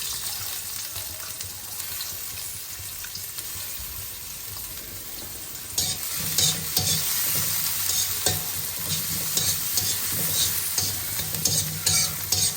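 Onions go into a hot pan for pasta, and a soft background hiss swells into a loud, crackling sizzle halfway through, with occasional stirring scrapes, close and without speech.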